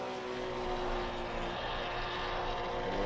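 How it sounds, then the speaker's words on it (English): Two new engines of GT racing cars on the Paul Ricard circuit, heard as a steady, droning engine roar with tonal harmonics that holds at an even level throughout, with no voices over it. "You can hear the 2 brand new engines."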